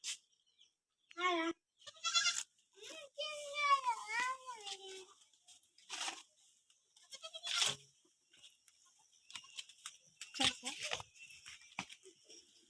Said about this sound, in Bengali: দেখেন ছোট ছাগলের বাচ্চাগুলো সাথে সাথে যাচ্ছে।